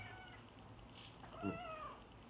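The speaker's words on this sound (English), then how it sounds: "This is my therapy kitty, Dillinger." A pet therapy cat gives a single short meow around the middle, close by and fairly clear over a low indoor room hum.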